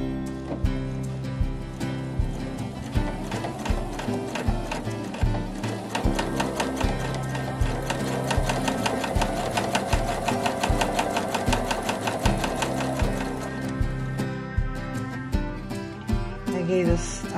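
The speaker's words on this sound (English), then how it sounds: "I'm just going to go ahead and free motion quilt the applique on now." Sewing machine stitching free-motion quilting over an appliqué on an art quilt, a steady rapid mechanical clatter with rhythmic needle thumps running throughout, close and fairly loud.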